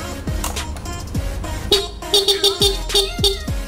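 A stock Honda Click 125 V3 scooter horn gives a series of short, bright honks in an uneven rhythm, close by and loud, with low thumping sounds between.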